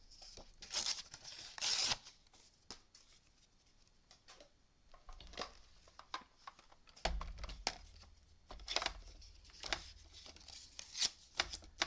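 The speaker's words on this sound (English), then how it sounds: "Let's go ahead and die cut that out." A die-cutting machine cuts a paper flower shape for a handmade holiday card, giving scattered clicks, ratcheting and crunchy mechanical bursts that come and go with quiet gaps, with a steadier rumbling pass near the end.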